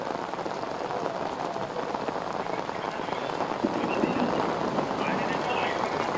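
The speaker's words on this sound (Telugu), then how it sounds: "గ్రేటర్ వ్యాప్తంగా ఎక్కడెక్కడ వర్షాలు పడుతున్నాయి అనేది మనం క్లియర్గా గమనించవచ్చు" Heavy rain pouring down in Hyderabad as roads flood, a dense hissing downpour with drops drumming on surfaces that grows slightly louder toward the end, with faint voices mixed in underneath.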